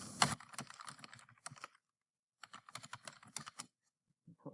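Short bursts of quick, close keystrokes on a computer keyboard, two flurries split by a brief silence, with a few isolated clicks at the end.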